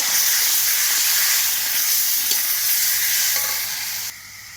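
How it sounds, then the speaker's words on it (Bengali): A paste of onion, garlic, ginger, dried red chilli and cumin with salt and turmeric frying in a pan, a loud continuous close sizzle with stirring and scraping, dropping quieter near the end, no talk. "পেঁয়াজ, রসুন, আদা, শুকনো লঙ্কা, জিরে পেস্ট করা আছে, স্বাদ মতো নুন আর হলুদ সব দিয়ে দেওয়া হলো। দিয়ে আমি ভালো করে কষাবো"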